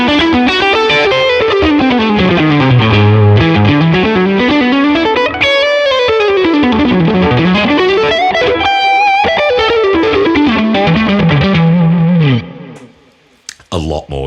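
High-gain electric guitar pushed through a Tube Screamer pedal into a Tone King Imperial Mkii amp plugin, playing loud, saturated sweeping runs and chords for about twelve seconds before a short pause and a few final hits.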